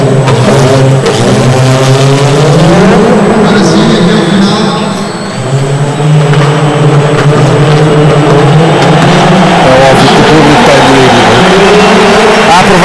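A Group B rally car engine revs hard and climbs through gears on a Rally Portugal 2007 stage, rising and falling in pitch, with someone talking in Portuguese over it.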